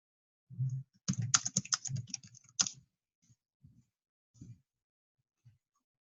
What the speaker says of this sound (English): So I can go in here, type in a keyword.